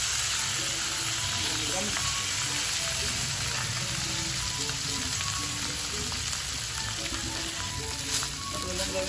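Flaked milkfish (bangus) sizzles steadily in a pan for sisig, a dense continuous crackle of frying throughout, with a brief spoken word over it.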